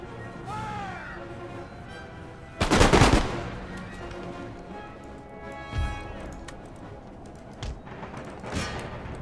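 Musket volleys in the Empire Total War video game: one loud crackling burst of massed fire, followed by a few scattered single shots, all set against steady game music and ambience.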